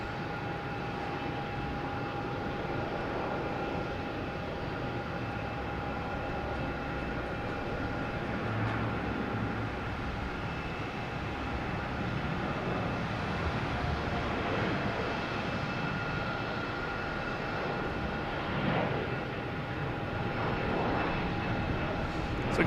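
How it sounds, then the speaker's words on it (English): Delta Embraer E175 jet airliner at Boston Logan Airport, a steady broad engine roar with faint whining tones holding at an even level throughout, heard from a distance with no talk. "next we have a Delta E175 heading to LaGuardia."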